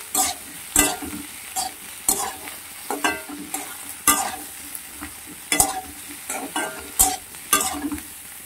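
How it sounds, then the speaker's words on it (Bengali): Chopped eggplant and potato pieces fry in a pan of hot oil, a steady sizzle broken by regular scraping stirs of a spatula, close and without talk. "আলুটার সঙ্গে বেগুনগুলোকে ভালো করে ভেজে নিতে হবে।"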